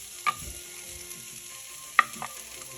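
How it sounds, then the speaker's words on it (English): Crushed onion fries quietly in a pan for scrambled eggs with veggies, a faint low hiss broken by two sharp utensil clicks against the pan. "Now you start to put the crushed onion"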